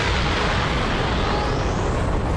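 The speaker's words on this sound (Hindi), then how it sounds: "तभी किंग जैनो वेजिटा पर एक तेजी से धमाका कर देते" King Jaino's energy blast strikes Vegeta in an animated Dragon Ball fight, a loud, sustained roaring explosion that fills the whole stretch with no voices.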